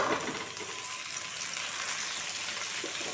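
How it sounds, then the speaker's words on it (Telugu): Green chilies and tomato fry in a pan with a steady, close sizzle of hot oil that holds evenly throughout, with no voices over it. "అలాగే పచ్చిమిర్చి కూడా ఫ్రై అయింది. దీంట్లోనే మనం ఒక టమాటా వేసుకుందాం."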